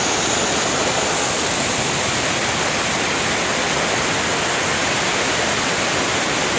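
Loud, rushing creek water in high flow roars constantly and close by, a dense unbroken wash of noise with no voices or pauses.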